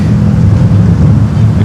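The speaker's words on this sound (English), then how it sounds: "Oh, windy." Strong wind blowing at Los Angeles airport: loud, steady low rumble and buffeting of wind across the microphone, continuous and close, with no other clear sounds.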